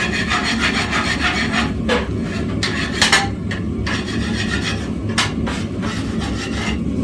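A wire brush scrubs cold rolled steel for forge welding, a close, steady rasping scrape with a few sharper metallic strokes, heard alone.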